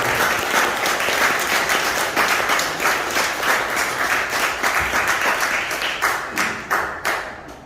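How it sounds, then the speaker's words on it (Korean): Sustained applause from an audience honouring Professor Kim Hyun-jung at an art exhibition event, dense steady clapping that swells and then trails off into scattered claps toward the end. "우리 김현정 교수님께 큰 박수 부탁드립니다"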